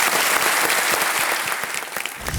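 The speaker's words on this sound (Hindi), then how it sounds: "तालियों के साथ हम उनका स्वागत करते हैं।" Studio audience at a TV quiz show clapping to welcome a contestant, dense sustained applause from many hands, close and loud throughout.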